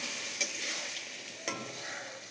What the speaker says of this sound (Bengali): সব মাছগুলো দিয়ে দিচ্ছি কড়াইতে।